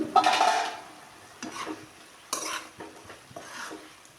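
A spoon scrapes and stirs beetroot palya in a pan in several short bursts, with a soft sizzle and simmer between the strokes and no one talking.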